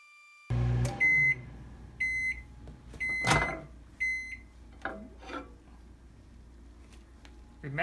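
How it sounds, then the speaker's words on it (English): A microwave oven heating pieces of soap on a plate gives a thump, then four evenly spaced electronic beeps, followed by faint rustling and handling noises. "Look and see what happens to them after we put them in the microwave."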